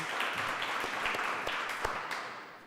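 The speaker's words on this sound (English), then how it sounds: "Let's give her a big round of applause as well." An audience at a conference closing panel on citizenship education claps for a panelist taking the stage, a steady wash of applause heard from within the hall, fading slightly at the end.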